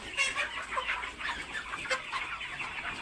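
Poultry chickens fed on rice-bran mash cluck steadily and fairly loudly in a shed, a dense overlapping chorus of short calls with no talking.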